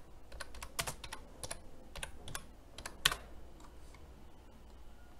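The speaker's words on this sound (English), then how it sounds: "type in control panel" Keys clacking on a computer keyboard while a name is entered into a Windows search box, an irregular run of close, crisp taps with one sharper stroke near the middle, no voices.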